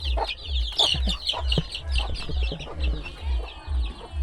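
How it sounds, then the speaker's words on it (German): A small chick on a jungle farm in the Philippines gives high, rapid peeps and chirps, close and repeated, over a steady thumping bass beat of distant music. "So ein kleines niedliches Küken."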